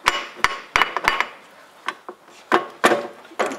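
A stuck prop shaft joint on a Land Rover tapped with a hammer until it pops off: a series of loud, close, sharp metallic knocks in uneven bursts, some in quick pairs, with no talk.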